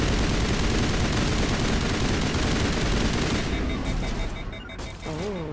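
Dense, rapid assault rifle fire rattles nonstop in the video game Mass Effect Legendary Edition, loud and continuous before thinning out near the end, where electronic tones and warbling game effects take over.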